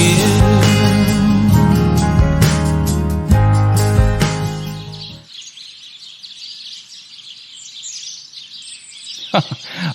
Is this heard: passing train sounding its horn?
no